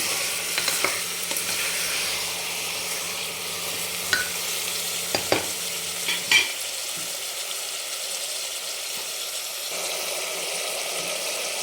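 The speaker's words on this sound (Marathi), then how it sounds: "पाच मिनिट एकदम चांगलं मंद गॅसवरच परतून घ्यायचं जे की आपल्या मटनचा कलर बदलला पाहिजे" Mutton sautéing in a pan over a low gas flame in a home kitchen, a steady soft sizzle with occasional clinks and scrapes of stirring, fairly close and continuous.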